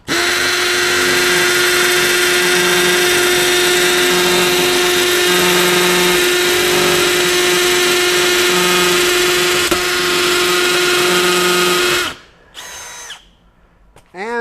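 A Milwaukee M12 FUEL Gen 3 hammer drill in hammer mode bores the full length of a bit through cinder block, a loud steady whining rattle for about twelve seconds before winding down to quiet.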